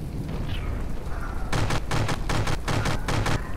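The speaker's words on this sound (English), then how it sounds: "Something's exploded." Explosions ripple through a ship battle in the video game From the Depths, where a quiet stretch gives way to a rapid series of loud, sharp blasts.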